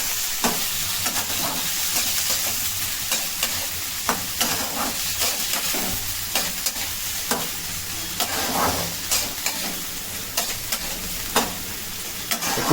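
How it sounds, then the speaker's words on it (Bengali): Onions and chopped tomatoes fry in hot oil for a Bengali mutton curry, a continuous close sizzle broken by frequent sharp clicks and scrapes of stirring, with no speech. "এবার গরম তেলে পেঁয়াজগুলো দিয়ে দেওয়া হলো, তার সাথে টমেটো কুচি দেওয়া হয়েছে।"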